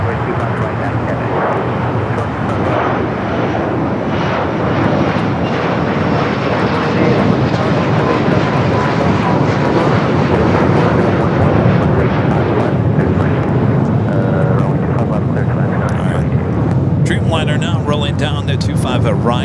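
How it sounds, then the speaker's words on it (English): A Gulfstream jet at LAX, a loud continuous engine roar holding steady throughout with a radio voice and talk over it. "Let's go to that Gulfstream."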